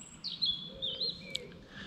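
Birds chirp and call in short, bright tweets among dense water plants where greylag geese are being photographed, several calls overlapping at moderate distance against a faint background hiss.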